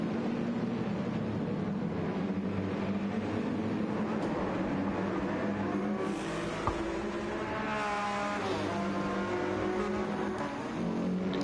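Racing cars speed down the long straight toward turn 3 at the Red Bull Ring, a steady engine roar throughout with a car's whining pitch rising and sweeping past midway, heard at some distance.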